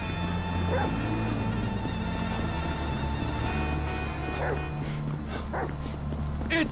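A dog in the GTA V video game yips, barks and whimpers in short bursts over a steady background hum, with a voice talking throughout.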